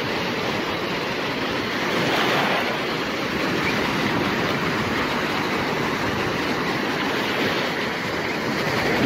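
Surf washing onto a Baltic Sea beach near Gdańsk, Poland, a steady broadband roar of breaking waves that holds at an even, fairly loud level throughout, with no voices.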